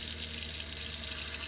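Hot water runs from a tap in an RV, a steady close hiss of flowing water with no breaks and no voices.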